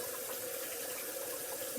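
Tap water pours steadily into a Pampered Chef Deluxe Cooking Blender jug, a constant close hiss and trickle of filling liquid with no voices.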